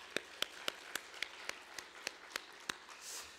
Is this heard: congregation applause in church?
yes